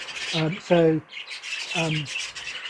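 Several loud squawks from birds, close by, in short harsh bursts separated by brief gaps, with some rustling between the calls.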